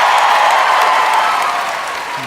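Applause from the audience at a live political podcast taping in Chicago, a broad steady wash of clapping that stays loud and dense throughout and fades slightly toward the end.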